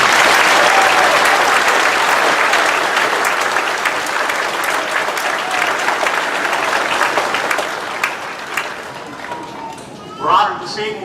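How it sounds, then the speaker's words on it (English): A graduation ceremony crowd gives a long, loud round of applause for faculty and staff, steady dense clapping that gradually tapers off, with a few voices and cheers near the end. "Would you join me in giving them a thank you and a round of applause?"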